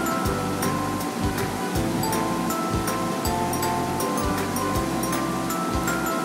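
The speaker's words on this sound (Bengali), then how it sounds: "প্রথমে আমি কড়ার মধ্যে জল নিয়ে নেব।" Water is poured into a kadai (wok) while fish balls are being prepared, giving a loud, steady rushing stream that runs throughout with no talking.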